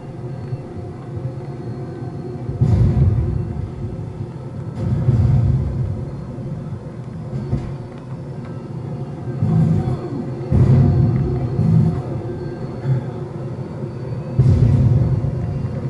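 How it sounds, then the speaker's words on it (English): A low airplane rumble swells and fades in repeated passes overhead in the online multiplayer game Call of Duty: Modern Warfare 2, a steady drone with periodic louder surges under faint game noise. "That airplane is just chumping the enemy"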